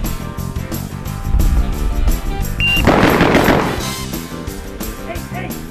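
A single-action revolver fired at five targets within under a second, the shots merging into one rapid, loud burst midway, set against steady background music and voices.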